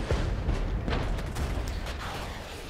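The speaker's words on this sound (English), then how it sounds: "It's just a normal artillery barrage." An artillery barrage of HE frag rounds in the Regiments video game: a dense rumble of repeated distant booms and blasts overlapping in quick succession, continuous, without talking.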